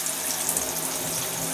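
A kitchen tap runs in a steady, close, full stream as tulips are rinsed under it in the sink, a constant rushing hiss of water with no breaks.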